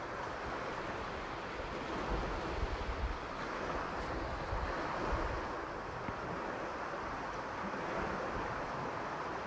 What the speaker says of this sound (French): Rien qu'écouter la symphonie des vagues